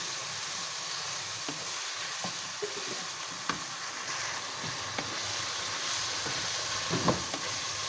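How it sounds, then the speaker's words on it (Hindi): Chicken for a restaurant-style chicken cheese handi fries with spices in a pan, giving a steady, close sizzle with a few faint clicks of stirring and no voices. "इसको मज़ीद 2 मिनट तक भूनेंगे, ऐसे ही फ्राई करेंगे।"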